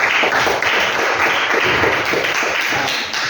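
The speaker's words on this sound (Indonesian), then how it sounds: "Baik, tepuk tangan untuk Dwi." Students in a classroom applaud a classmate's answer, giving brisk, loud group clapping with rapid overlapping claps that stay steady throughout.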